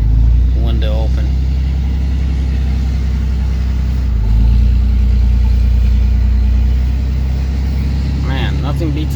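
Ram 3500 Cummins diesel truck with an Aisin transmission towing a loaded gooseneck trailer in town, its deep engine drone steady and loud from inside the cab with the window open, with faint talk at moments.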